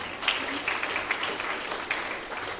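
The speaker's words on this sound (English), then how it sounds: "round of applause for that" Audience applause at a community workshop on deep sea mining, steady moderate clapping from a seated crowd, with some scattered talk mixed in.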